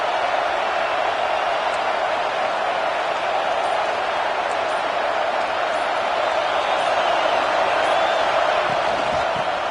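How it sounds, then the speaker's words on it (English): Stadium crowd at a football game sending up a steady, dense roar of cheering and noise that holds loud and unbroken throughout, with no distinct voices standing out. "This crowd ready to make its presence known."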